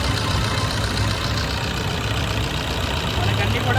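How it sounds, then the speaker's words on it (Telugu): A 2017 Maruti Baleno Alpha diesel engine idling up close, a steady, even rumble with a smooth, constant hum that holds without revving throughout. "సౌండ్ కూడా, ఇంజన్ సౌండ్ కూడా చాలా స్మూత్గా అయితే వస్తుంది"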